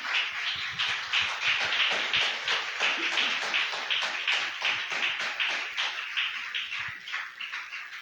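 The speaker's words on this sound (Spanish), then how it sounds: "Dale palmas fuertes al Señor de la gloria." A church congregation claps loudly and steadily for the Lord during a sermon, dense rapid hand claps from many people filling the room, sustained throughout with no talk.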